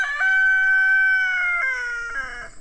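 Backyard chickens free ranging on a homestead, pecking at garden watermelon, give a clear, close drawn-out crow-like call that breaks into a few shorter cackling notes at the end.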